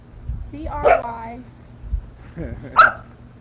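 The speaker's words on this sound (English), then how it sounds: "as the dog barks" A dog barks a few times in short bursts, mixed in with people talking nearby over a low background hum.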